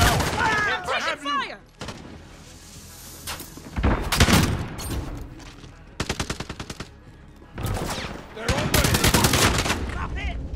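Bursts of rapid automatic gunfire in a Call of Duty: Modern Warfare team deathmatch, loud and close, separated by short pauses, with game voice lines calling out between the volleys.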